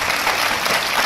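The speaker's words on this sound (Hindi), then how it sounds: "इनके लिए भरपूर ताली।" Audience applause at a live comedy show, a brief dense burst of many hands clapping, loud and continuous without a pause.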